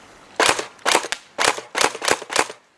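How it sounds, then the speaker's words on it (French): Tokyo Marui AA12 airsoft shotgun with drum magazine dry firing, five or six sharp mechanical snaps at a steady, slightly uneven rhythm, close and fairly loud with silence between shots. "Là je tire vraiment à vide, donc je vais remonter le mécanisme."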